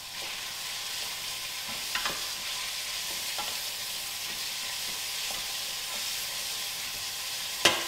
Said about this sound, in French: Donc avec une spatule, je viens mélanger mes oignons